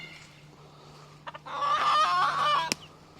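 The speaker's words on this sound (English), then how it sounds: "in here we've got a couple of Brahma chicks. They're about 3 weeks old" Clucking and calling from a Brahma hen with her three-week-old chicks in a coop: a near, fairly loud burst of clucks lasting about a second, followed by a sharp click, with no talk.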